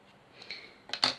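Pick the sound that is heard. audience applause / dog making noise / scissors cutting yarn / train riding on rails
scissors cutting yarn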